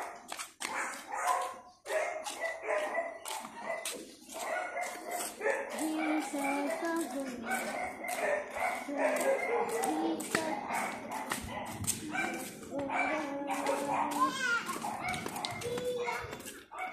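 A dog barks repeatedly in short bursts, close and fairly loud, among the voices of children and adults talking and playing nearby.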